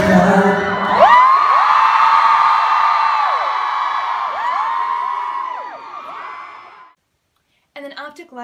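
A large crowd at a concert screams and cheers loudly and continuously, high shrieks rising over music for several seconds before fading to silence, followed by a brief burst of voices.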